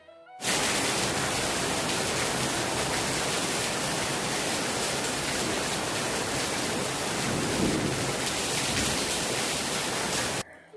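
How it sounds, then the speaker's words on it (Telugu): Steady rainfall, a dense even hiss of falling rain that holds constant from start to finish, moderately loud and close, with no talking. "మనకేం పనులు లేవు కాబట్టి వర్షాన్ని ఎంజాయ్ చేస్తూ కూర్చున్నామండి"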